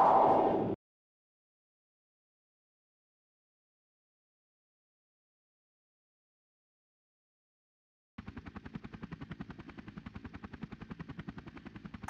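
In the PS1 game Army Men: Air Attack 2, a Chinook helicopter's rotors thump in a rapid, even chop that starts after a long silence, following a brief loud burst at the opening.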